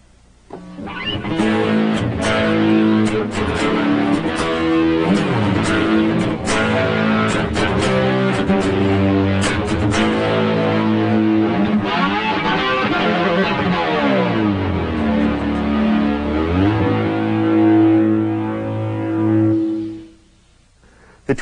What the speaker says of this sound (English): Here's another example using a tube distortion.